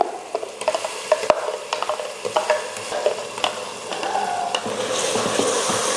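Tomato and mint-coriander paste sautéing for chicken biryani, cooked in a pressure cooker: a steady sizzle is broken by irregular scraping and clacking stirs, close and alone, with no talk.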